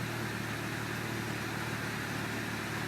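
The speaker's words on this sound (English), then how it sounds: "Idling a little bit high right now." A Mini Cooper R56 sits idling slightly high after a cold start, a steady, even engine drone heard up close with no talking.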